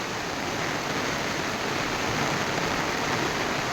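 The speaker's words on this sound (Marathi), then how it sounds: "प्रमाणाच्या बाहेर पाऊस पडत आहे" Heavy monsoon rain pours steadily in Mahabaleshwar, a dense, even hiss of falling water filling the whole stretch without pause or voices.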